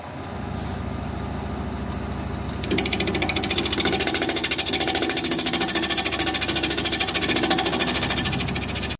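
A wood lathe spins up to about 800 rpm with a vase blank mounted. A loud, steady mechanical drone breaks after a few seconds into a fast, even pulsing thump that continues close by to the end.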